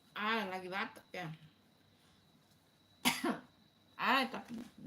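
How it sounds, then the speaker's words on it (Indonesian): A few short coughs and throat-clearing bursts from a nearby person, with quiet pauses between them and a faint steady hum underneath. "Lagi batuk ya."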